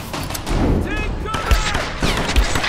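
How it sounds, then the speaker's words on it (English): Enemy gunfire aimed at the player in Tomb Raider, sharp shots and booming impacts hitting repeatedly over a couple of seconds, loud and close, with a player's voice reacting throughout. "Stop shooting me so I can see where I'm shooting!"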